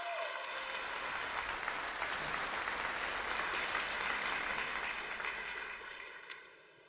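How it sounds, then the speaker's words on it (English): A conference audience at a React Native event gives a speaker named Tommy a big round of applause, dense and steady clapping from a large crowd that holds for several seconds before thinning out and fading at the end. "So I'd like us all to give a massive 10 out of 10 round of applause to Tommy."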